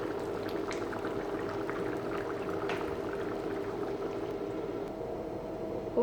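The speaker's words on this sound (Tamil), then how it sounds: "இதை நல்லா கொதிக்க வைக்கணும் ஒரு ரெண்டு மூணு நிமிஷம் கொதிக்கணும்" A pot of brinjal and drumstick tamarind curry boils steadily, with a constant close bubbling and low simmering hiss throughout and no talking.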